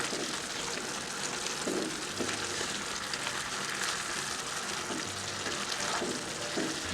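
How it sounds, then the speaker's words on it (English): Garlic sizzles and fries in a pan while osso buco is being prepared, a steady crackling hiss that runs evenly throughout with occasional stirring. "Then we're going to add our garlic."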